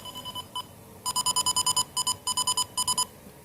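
Beeping from an OPAMP Shorty loop finder tracing a bad connection on a multilayer PCB, a high electronic tone pulsing in short rapid bursts, sparse at first and then in quick even runs of beeps.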